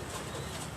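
Salare teddy pigeons cooing in a loft, a brief, soft, low coo set against steady broadband background noise.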